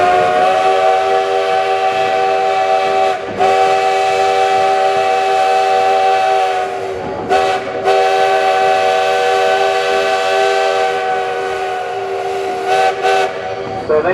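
A steam locomotive whistle at Hesston Junction on the Hesston Steam Museum railway blows long and loud, a steady chord with brief breaks, over a hissing background during the Labor Day Steam & Power Show.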